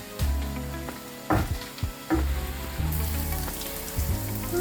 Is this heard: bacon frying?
yes